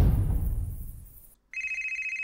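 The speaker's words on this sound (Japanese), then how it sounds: "電話が鳴ってる。" Telephone ringing in a late-night horror video game: a low rumbling fades out, a brief silence follows, then a steady electronic ring with a fast warbling pulse begins, moderately quiet.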